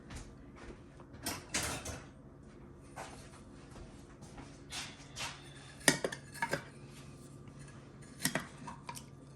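A small spatula works in a baking dish of Southern vegetable casserole, giving faint scrapes, soft clinks and taps of metal against the dish, scattered and close with no talking.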